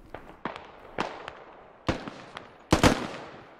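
Scattered gunshots in the military shooter SquadOps, a run of sharp cracks spaced unevenly at varying distances, some faint and distant, with a louder close burst near the end.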